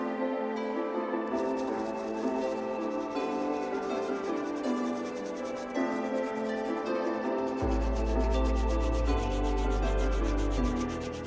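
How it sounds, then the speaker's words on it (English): A soft bristle brush scrubs the uppers of an Air Force 1 sneaker in circular and back-and-forth strokes. The rubbing is steady and close, and a low hum joins in partway through. "Just move the brush around in a bunch of different angles and circular motions and back and forth to let the brush do the work"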